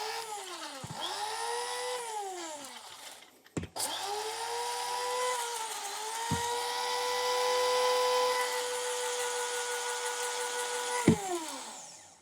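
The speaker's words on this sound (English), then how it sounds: "with these lightweight herbs, you need to shake the grinder a bit and the result is a fine dust" Electric grinder whirring as it powders dried honey melon sage, a steady high motor whine that dips and restarts several times as the machine is shaken and pulsed, close and loud with no talking.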